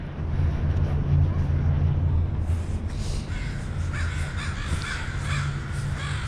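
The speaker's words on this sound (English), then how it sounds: "Listen to the caw of those crows." Crows caw repeatedly from a distance in downtown Vancouver, harsh calls rising over a steady low rumble of traffic or engine noise.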